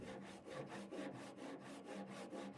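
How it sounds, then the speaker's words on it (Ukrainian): Japanese-type handsaw cutting pine, a quick steady rhythm of rasping strokes, close and fairly quiet, with no voices. "А пиляю ножовкою японського типу."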